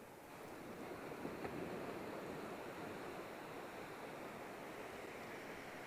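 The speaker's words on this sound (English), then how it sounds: "waves crashing on the shore." Ocean waves breaking on the shore at Olhos de Água beach in the Algarve, a steady, continuous wash of surf rumbling at moderate distance with no voices over it.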